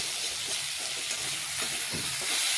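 Pointed gourd (potol) pieces frying in oil in a kadai, giving a steady soft sizzle and hiss with faint stirring clicks, close and alone without talk.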